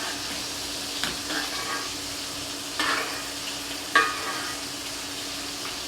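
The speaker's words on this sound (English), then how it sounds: "Continue to baste it. You want to keep that delicious butter and sauce on your steak." A steak sizzles steadily in a pan while being basted with butter and sauce, a constant close frying hiss broken by a few brief spoon clinks and louder spattering bursts.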